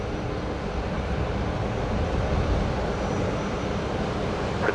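A Qantas airliner at Brisbane Airport at night gives a steady, fairly loud jet engine roar with a broad rumbling hiss that holds constant throughout, with no speech.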